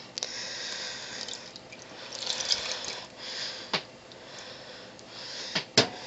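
Water poured into chocolate fudge cupcake batter in a home kitchen, a soft splashing trickle with a few sharper drips and knocks near the end.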